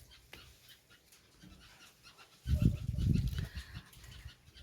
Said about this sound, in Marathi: तिथे असले तरी हे भुंकतात.